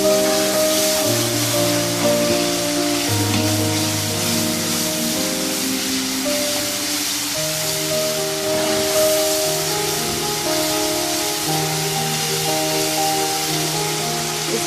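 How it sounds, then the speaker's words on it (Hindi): Onions frying in hot oil for a Pakistani-style fish curry give a continuous soft hissing sizzle under steady background music. "पहले ऑयल में प्याज को अच्छी तरह से फ्राई कर लेंगे।"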